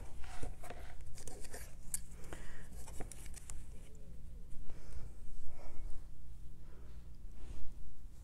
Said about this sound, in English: And my rotary cutter.